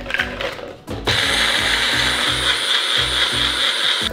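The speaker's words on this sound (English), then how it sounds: "First thing we need to do is we need to grind up some graham crackers." Graham crackers ground up in a powered kitchen grinder or blender for a no-bake dessert recipe, a loud continuous whirring grind with rhythmic rattling pulses, close and steady after a brief pause.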